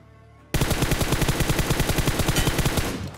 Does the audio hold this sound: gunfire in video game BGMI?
yes